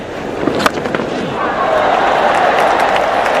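Crowd at a Headingley one-day international cricket match between England and South Africa, swelling into steady cheering and applause that builds and holds, loud and continuous with a few sharp claps early on.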